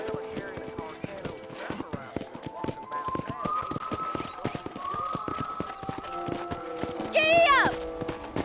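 A horse gallops in the Red Dead Redemption video game, with rapid, close clip-clop hoofbeats running throughout. Music and a brief whinny-like cry sound near the end, and someone speaks over it.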